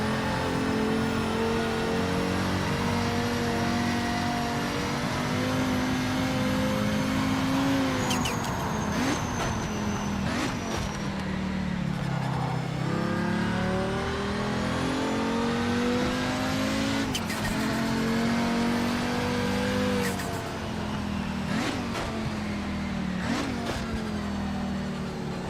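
Race car engine in the Project Motor Racing video game, revving hard and rising through gears with repeated shifts, loud and continuous, with occasional tire squeal.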